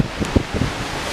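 Wind buffets the microphone on the front deck of a cruise ship, coming in loud low gusts and rumbling thumps through a short stretch, with no talking.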